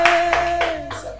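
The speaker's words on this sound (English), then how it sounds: "A round of applause for him." A classroom gives a brief round of applause, several hands clapping in quick, uneven bursts for just over a second, loud and close.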